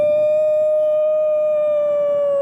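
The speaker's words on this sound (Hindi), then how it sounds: "कहीं दूर कुत्ता या सियार रोया" A dog or jackal howls in the distance near a village garden at night, a single long, steady wail that slides slightly downward in pitch, loud and unbroken, with no other sounds around it.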